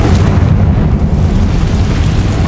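Confringo blasting spell explosion in the Hogwarts Legacy video game: a loud, sustained low rumbling boom that fills the whole stretch without letting up, with no voices.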